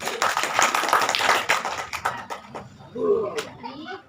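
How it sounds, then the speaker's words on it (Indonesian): A school class claps hands together for a few seconds, a quick cluster of sharp claps mixed with children's voices that thins out, followed by scattered talk. "Tepuk tangan semuanya"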